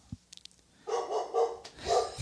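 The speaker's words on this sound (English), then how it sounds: "I don't know if you can hear the dog barking." A dog barks outside, a few sharp barks in quick succession, fairly close and clear, after some light clicks and taps.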